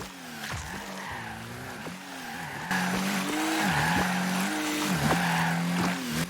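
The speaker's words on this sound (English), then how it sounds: "number 6 goes to the Pickle Boost. Now close your eyes and listen to this boost" Pickle Boost item sounding on a car in the video game Rocket League, a continuous engine-like whine with repeated swooping squeals and pitch bends, louder in the second half, with no speech.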